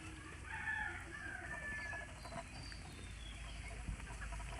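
Chickens and a rooster on a native (deshi) chicken farm, with clucking and crowing calls mixed into a steady background of farm noise, moderately close and without speech.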